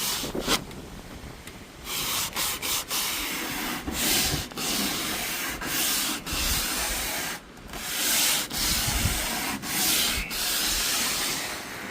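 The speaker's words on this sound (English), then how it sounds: "you're just going to take your sandpaper and you're going to go over it" Sandpaper is rubbed back and forth along real wood edge banding on Baltic birch plywood, a close, steady series of gritty scratching strokes with short breaks between passes and no voices.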